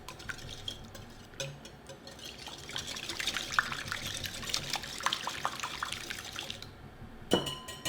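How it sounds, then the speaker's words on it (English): Eggs being whisked in a bowl for pumpkin waffle batter, a quick irregular clicking and sloshing of the whisk against the bowl that runs steadily, then stops before a few final taps. "And let's whisk these up."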